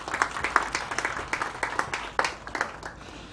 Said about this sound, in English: Let's give him a round of applause as he does that.